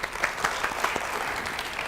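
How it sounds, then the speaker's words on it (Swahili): Steady applause from an audience at a government spokesperson's public forum, a dense patter of many hands clapping together without a break for about two seconds. "Makofi kabisa hapo."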